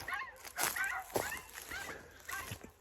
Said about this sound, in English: Sometimes the other dogs in the neighborhood get them barking.